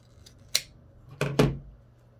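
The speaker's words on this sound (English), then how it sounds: "Trim off some of the excess." Scissors snip away excess fabric on a sewn baker boy newsboy cap, with one short sharp cut followed by two quicker snips close together, quiet and near in a calm room.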